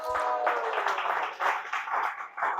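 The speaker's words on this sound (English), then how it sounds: "Let's give him a big round of applause." A seminar audience at a temple gathering in Nairobi claps for a speaker, a brief, fairly close burst of applause that swells and dips in uneven waves.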